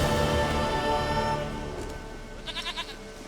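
A goat bleating in The Witcher 3 video game, one long wavering bleat that trails off into a quieter quavering tail, loud and close with no talking over it.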